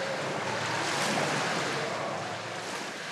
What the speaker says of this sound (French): Des modèles réduits de son système sont soumis à des vagues de plus en plus fortes.